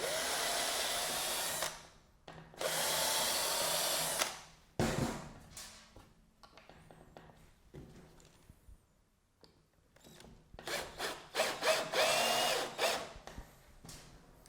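Power drill driving screws into driftwood for a largemouth bass skin mount, two long loud whirring bursts followed by a series of shorter revving pulses and stops, close up with no talk.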